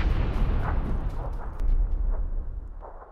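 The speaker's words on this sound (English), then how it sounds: "Just threw a nade between those two." A grenade going off in the PUBG battle royale game, a loud, deep, rumbling boom that rolls on and fades over a few seconds, with no talk over it.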